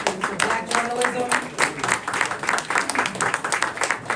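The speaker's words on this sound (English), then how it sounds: "Let's give a round of applause for Black journalism." A small crowd claps, short bursts of applause rising and falling over a few seconds, fairly close, with some voices mixed in.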